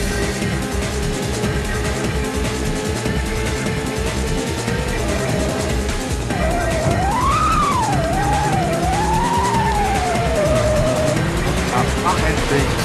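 A race car in the video game Rage Racer roars loudly throughout, its engine note rising and falling with a squealing pitch sweep partway through, while someone talks over it.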